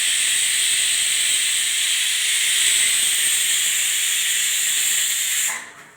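Steam hisses loudly and continuously from a pressure cooker after a batch of kanji porridge, a close, even rush of vapor that cuts off abruptly near the end.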